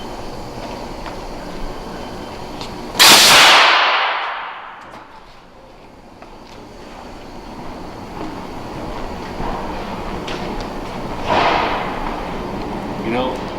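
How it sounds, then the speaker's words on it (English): A Cheetah Blaster tank fires a sudden loud air blast to seat a tire bead on a wheel in a wheel shop, a sharp hiss that fades over a second or two, amid shop background noise with later softer bumps. "take the Cheetah Blaster, point it at the wheel, then you just open up this"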